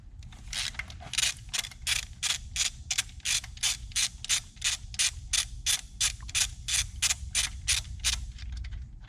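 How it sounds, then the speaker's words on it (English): A ratchet wrench loosening a 16mm bolt that mounts the oil separator on a 1.5L turbo Nissan Rogue engine, giving a steady run of sharp, evenly spaced clicking strokes, close and distinct, with no talk. "Now our oil separator assembly is going to mount off of this bolt here. It's 16mm. And we need to remove that bolt."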